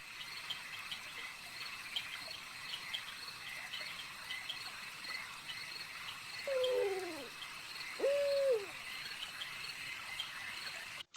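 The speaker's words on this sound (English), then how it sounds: "I notice the hooting of owls and the swooping of the bats" Two distinct owl hoots sound at dusk, a short wavering call followed by a steadier one, fairly close and clear over a continuous background of chirping crickets and insects.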